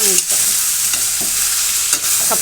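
Vegetables are stir-fried in a pan with a loud, close sizzle. Quick scrapes and tosses of the stirring utensil cut through it every second or so, with no voices.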